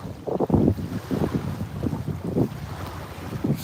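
Gusty wind buffets the microphone beside a river during a fishing trip, a steady low roar with repeated louder blasts and no voices.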